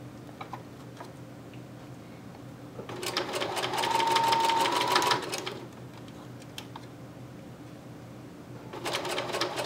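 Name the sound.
sewing machine sewing fabric doll boots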